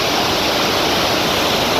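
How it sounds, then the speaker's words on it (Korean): Roaring water of the Rhine Falls on the Swiss-German border near Schaffhausen, heard up close as a loud, steady broadband rush with no breaks. "여러분들은 지금 라인 폭포를 가장 근접해서 지금 보고 있습니다"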